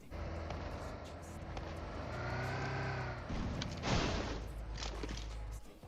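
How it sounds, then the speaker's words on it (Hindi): A vehicle engine in PUBG Mobile grows louder as it comes over a hill, its pitch rising and falling as it drives. The sound swells toward the middle and stays fairly close, with no voices. "अब मुझे दिखती है पहाड़ के ऊपर से गाड़ी आते हुए"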